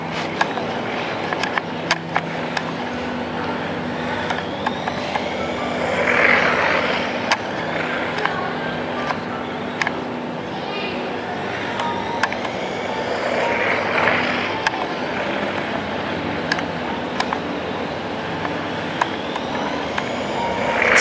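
A small radio-controlled car weaves through a slalom course on a practice track, its electric motor whining up and down as it accelerates and brakes between cones, with sharp clicks and ticks spread through a steady background hum.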